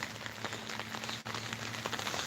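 Steady soft patter of rain with a faint low hum underneath, continuous and fairly quiet throughout.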